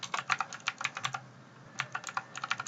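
Brisk keystrokes on a computer keyboard while entering code, clicking in quick bursts with a short pause midway, close and clear with no voice.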